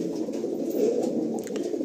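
Two male pigeons coo softly nearby in a low, continuous rolling murmur, with no voices present.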